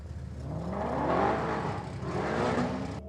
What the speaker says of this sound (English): Oh, pedal fest down there for the Mustang on the start line.